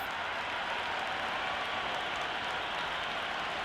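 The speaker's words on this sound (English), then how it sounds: "The crowd are making a heck of a lot of noise even before the first ball's been bowled" A dense, steady wash of crowd noise at a cricket match in Sydney, like a large distant audience cheering and clapping without pause before the first ball.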